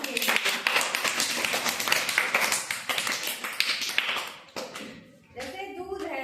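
Children in a classroom clap together for a classmate, making a lively patter of many hands that runs for several seconds before fading. A teacher's voice speaks over it.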